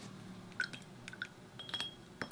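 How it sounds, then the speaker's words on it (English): A paintbrush swishes and taps in a water jar, with soft clinks against glass and light dripping, quiet and close, with no voices. "washing out the brush, adding more water"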